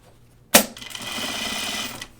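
A home sewing machine stitches through thick jacket fabric in one short burst, starting with a sharp clack and then running as a steady, close mechanical whir for about a second and a half before stopping.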